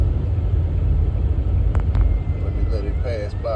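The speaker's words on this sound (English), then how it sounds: "See the fire truck." A fire truck rolls past nearby with a loud, continuous low engine rumble that stays steady before easing slightly, and a voice speaks briefly near the end.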